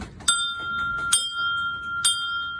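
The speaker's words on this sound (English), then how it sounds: "She rang the bell after the last of 12 treatments since June" A hand bell rung to mark the last of twelve chemotherapy treatments, three bright metallic rings with lingering tones, spaced about a second apart, with a faint murmur of a room beneath.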